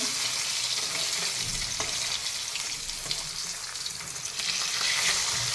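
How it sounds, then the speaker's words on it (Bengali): Fish frying hot in a pan of oil, a dense continuous sizzle and crackle holding steady throughout, close and fairly loud with no voices. "আমার মাছ ভাজা হচ্ছে দেখতে পাচ্ছ"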